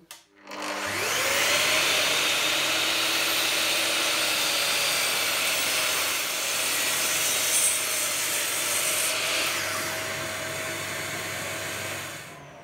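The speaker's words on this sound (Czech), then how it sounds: "Řízneme si dubovou fošnu, jenom abyste slyšeli, jak pila" A Bosch GCM 12 GDL miter saw cuts through an oak plank, its motor spinning up quickly and holding a steady, loud whine under the cutting noise before easing slightly toward the end.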